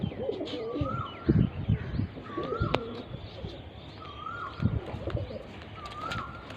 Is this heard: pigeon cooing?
yes